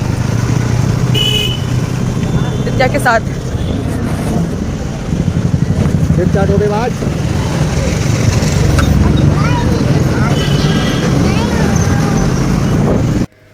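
A motorbike carries riders to the market, with a steady engine drone and heavy wind rumble throughout, someone speaking over the noise, and brief faint traffic sounds.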